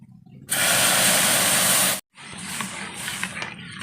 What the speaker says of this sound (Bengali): এবার দিয়ে দেবো আমি দুধ